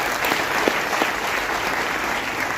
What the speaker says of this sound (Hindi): मैं चाहूंगी इस प्लेटफॉर्म के लिए एक बार जोरदार ताली होनी चाहिए